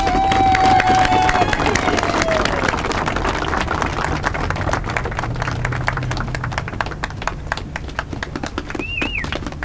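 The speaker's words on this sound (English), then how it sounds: "let's give a round of applause to our mayor, John Gummerson." Outdoor crowd applause for the mayor at a ribbon-cutting ceremony on the newly finished Cottonwood Creek bridge in Guthrie, a broad steady patter of clapping with some cheering, birdsong and faint traffic mixed in, fading slightly over the stretch.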